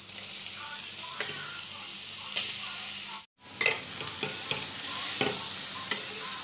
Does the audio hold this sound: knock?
no